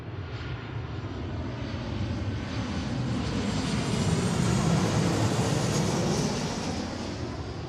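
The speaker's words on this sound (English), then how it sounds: "we're going to have a decent amount of aircraft coming in here" An Alaska Airlines jet on approach to Seattle runway 34L, a steady broadband engine roar that swells through the middle and eases slightly toward the end, close and loud with no voices.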